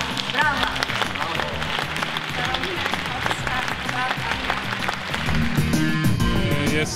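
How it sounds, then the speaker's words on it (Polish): A gala audience applauds at a Businesswoman of the Year award ceremony as a winner is announced: scattered clapping mixed with a voice and tonal background sound, swelling slightly toward the end. "Brawa!"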